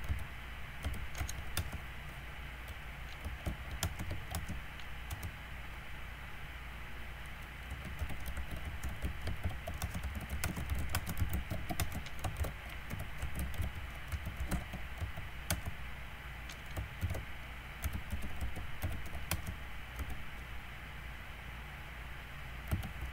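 Rapid, continuous typing on a computer keyboard, dense clicking keystrokes running steadily throughout at close range with no speech.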